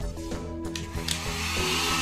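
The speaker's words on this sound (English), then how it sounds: "Just take a heat gun," A heat gun on its high setting, running as a steady, loud whirring hiss with a constant motor hum and no speech, used to heat a PC processor board so its gold pins come loose.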